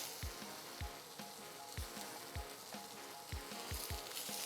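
Fish fries in smoking-hot oil in a pan, a steady faint sizzle punctuated by regular low thumps and knocks recurring about twice a second.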